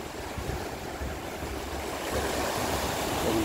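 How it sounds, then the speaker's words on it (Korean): Heavy surf breaks on the shore near a Korean fishing village, a steady broad wash of waves and wind that swells louder toward the end, with no voices. "파도가 너무 심해서."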